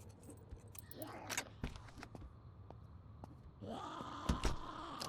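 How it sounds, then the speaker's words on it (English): Metallic clicks and jangling of lockpicking in a zombie survival video game, a run of sharp ticks and scrapes with a louder rattle near the end. "More lockpicking to be done."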